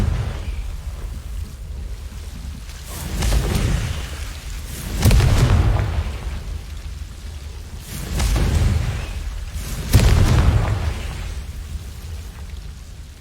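Confringo blasting spells exploding in the game Hogwarts Legacy, several heavy booming blasts a couple of seconds apart over a low rumbling background.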